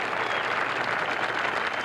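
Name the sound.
audience applause at bowling tournament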